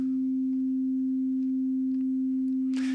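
A steady, pure sine wave tone from an emulated modular synth oscillator, held at one constant pitch for about three seconds, clean and unbroken, with a brief burst of noise near the end.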